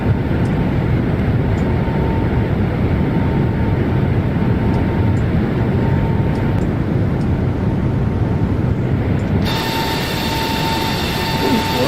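A Boeing 737 MAX in Microsoft Flight Simulator hums through its climb, a loud, steady broadband jet and cabin roar with a faint tone that holds throughout and brightens slightly near the end.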